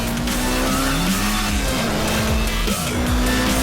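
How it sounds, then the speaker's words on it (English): In the racing game Sonic & All Stars Racing Transformed, a small remote control car attack whines and zips around amid engine drone and swooping tire squeals, loud and busy throughout without talk. "it was actually like a little remote control car attack that Sonic used on Amigo."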